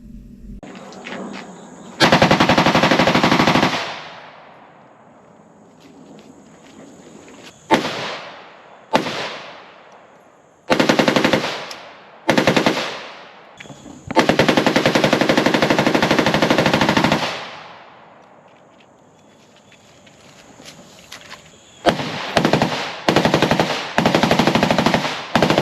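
A firearm blasting several long full-auto bursts, each a dense rapid stream of loud close shots, separated by pauses and a few short bursts, with no voices.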